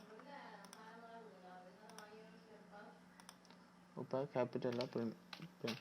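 A few sparse clicks from typing on a computer keyboard, faint and set under steady close talking that grows louder toward the end.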